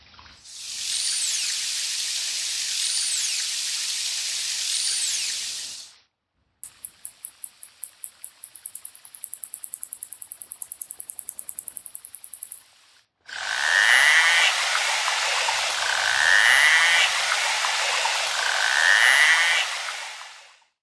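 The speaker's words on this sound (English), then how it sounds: "the clicking sound that they make when they use echolocation to find food, and the buzzing noise that the rapid clicks produce when food is nearby" Narwhal sounds in three distinct passages: a stretch of dense whistling, then a run of sharp, regularly spaced echolocation clicks, then loud buzzing bursts with repeating tonal sweeps, all clear and close with no voices.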